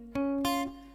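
A guitar arpeggio picks out the first chord shape of the loop riff: three plucked notes ring in quick succession, the lowest sustaining underneath, close and clear with no talking.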